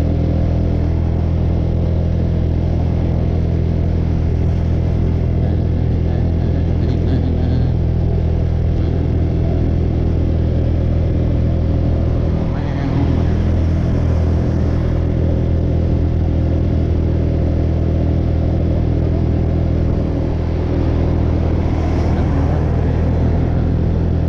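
A Honda Dio scooter engine while riding on the road at around 100 to 110 km/h, a loud, steady droning hum with strong low rumble and wind noise, holding an even pitch throughout with no speech.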